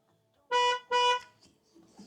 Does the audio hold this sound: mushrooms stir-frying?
no